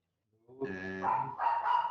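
A pet dog barks nearby in a home during a presentation on facial volumizing, a few short, loud barks in quick succession with no talk over them.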